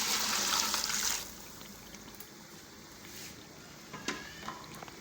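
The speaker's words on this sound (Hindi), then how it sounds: "जो मैं यखनी डालने लगी हूँ" Yakhni broth poured into fried masala for mutton pulao: a loud, rushing splash for about a second, then settling into a quieter simmering bubble with a few faint clinks near the end.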